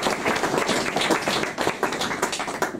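A small indoor audience claps for a speaker at a history talk, the applause close and uneven with distinct individual hand claps, staying lively for a few seconds.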